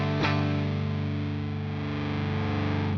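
An electric guitar played through a Walrus Audio Fuzz Imp Furia distortion pedal with its blend knob turned down rings out one sustained, heavily saturated chord, struck once and held for about three seconds, loud and alone before cutting off.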